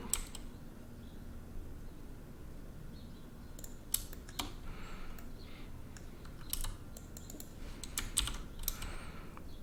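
Keyboard shortcuts typed on a computer keyboard while selecting a 3D tire mesh, heard as irregular clusters of crisp key clicks over a quiet room hum.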